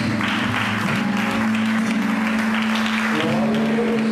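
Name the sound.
church congregation applause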